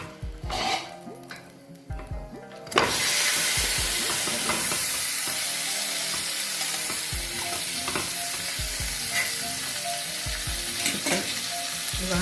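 A whole chicken fries in oil in a pan on the stove, the sizzle jumping to a loud, steady hiss after a lid lifts, with occasional spatters and clinks over the constant frying.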